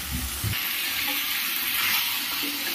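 Chicken pieces dropped into a pan of spice paste being fried down for chicken khichuri, with steady close sizzling and crackle running throughout, a few soft low thumps at the start as the meat goes in.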